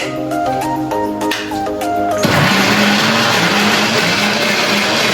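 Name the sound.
mixer grinder grinding fried onion, garlic, spices and herbs into masala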